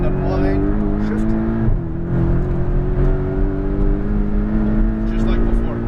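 Porsche Cayman GTS engine held at full throttle on a race track, a loud sustained in-car drone with a brief dip and recovery, while an instructor talks over it.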